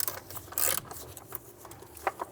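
A ratchet working a bolt loose from the intake manifold of a BMW N55 engine, short clicking and rubbing bursts at close range, quiet and irregular with small gaps between strokes.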